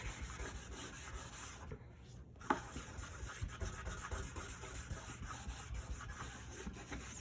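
A small cloth wipes wax over a chalk-stenciled wooden gnome sign, giving a soft, steady rubbing close to the mic, with one brief pause and a light knock midway.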